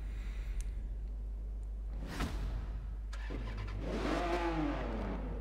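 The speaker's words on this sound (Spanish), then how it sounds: "Lo vamos a arrancar, si sabemos esto cómo se arranca." A Maserati's engine is started: a sharp starter crank, then the motor catches and revs up with a rising, whining tone, over a constant low hum.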